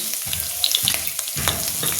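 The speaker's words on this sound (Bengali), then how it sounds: "আমার পেঁয়াজ ভাজা হয়ে গেছে" Chopped onions frying in a pan with two green chillies added on top, with steady sizzling and a few bursts of stirring, close and fairly loud, no voices.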